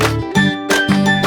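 A bell-icon notification effect chimes as a few bright, ringing ding notes in quick succession, loud and close, with no voices.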